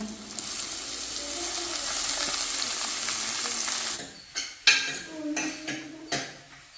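Greens cooking in a pot, first a continuous soft sizzle and bubble, then a handful of sharp metal clinks and scrapes as a spoon stirs, close and moderately loud.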